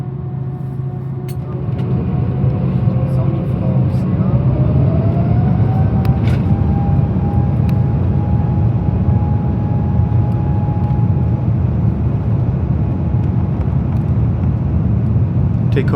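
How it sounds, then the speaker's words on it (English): Aircalin Airbus A330-900neo taking off, heard from inside the cabin: a steady broadband engine roar with a tone that rises in pitch over several seconds as power builds, then holds level, fairly muted throughout. "Takeoff on the A330-neo is surprisingly quiet"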